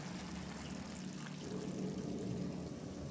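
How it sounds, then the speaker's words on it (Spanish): Coca-Cola is poured into a pot of chicken wings, a soft continuous liquid pour with a low fizzing wash that runs steadily throughout at moderate level. "es hora de agregar la clave de la preparación. Dos tazas de Coca-Cola."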